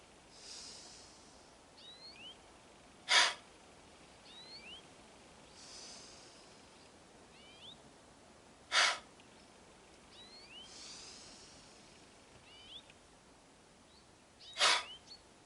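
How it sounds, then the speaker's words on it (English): Slow Aiki breathing exercise, three sharp forceful breaths spaced about six seconds apart, with softer breathing between and faint birdsong in the background. "Aiki breathing."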